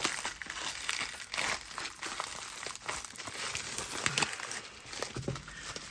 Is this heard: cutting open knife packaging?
yes